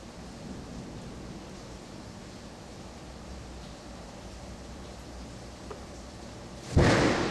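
A thunderstorm rumbles outside as a low, steady wash of rain and wind, then a sudden loud burst of thunder or a gust swells near the end.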